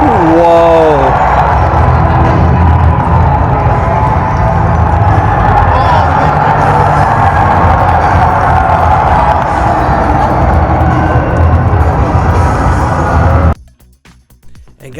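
A huge WrestleMania 41 arena crowd in Las Vegas roars and cheers loudly and continuously, a dense wall of noise that cuts off abruptly near the end.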